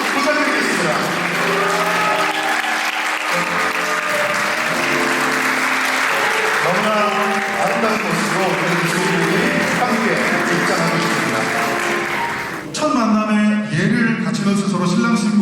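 Guests at a wedding ceremony in Grace Hall of the Incheon Asiad Convention applaud the bride and groom's entrance, steady clapping heard beneath loud music that shifts abruptly near the end.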